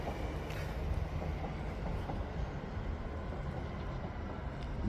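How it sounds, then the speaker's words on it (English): A train from Bromsgrove pulls out of Lichfield Trent Valley station on the West Coast Main Line, a steady low rumble of wheels and carriages rolling past with faint high squeaks, heard from an upper platform level and without talk. "The train from Bromsgrove now leaving the station."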